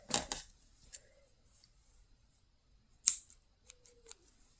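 Scissors snip yarn during a graphghan color-change crochet project, with a couple of crisp close cuts at the start and another sharp snip about three seconds later, amid faint handling noises in a quiet room.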